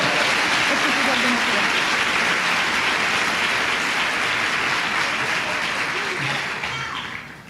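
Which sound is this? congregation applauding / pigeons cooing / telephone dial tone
congregation applauding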